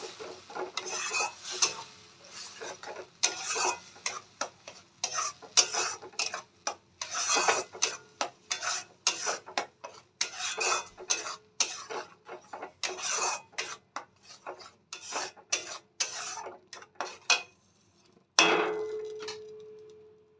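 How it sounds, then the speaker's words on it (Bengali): Ground tomato paste stirred and scraped around a hot pan for a Bihari-style rui fish curry: repeated rasping strokes of a spoon against the metal in an uneven rhythm, close and fairly quiet, ending in a brief louder clatter. "এবার আমরা বেটে রাখা টমেটোটা দিয়ে দেব, দিয়ে ভালো করে কষিয়ে নেব"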